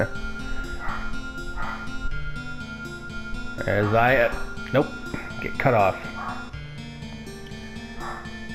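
A small dog yaps and whimpers in short, repeated bursts at mid distance, mixed under someone talking casually over quiet game audio.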